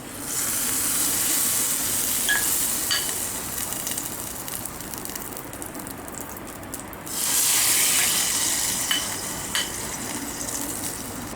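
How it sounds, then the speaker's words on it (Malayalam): Hot spiced tempering poured into a finished coconut-free roasted fish curry, giving a loud, steady sizzle and hiss that eases off, then flares up again partway through with a few crackles. "ഈ ഓഫ് ചെയ്യാം ഇതിലോട്ട് താളിച്ചത് നമുക്ക് ഇതിലോട്ട് ഇട്ട് കൊടുക്കാം"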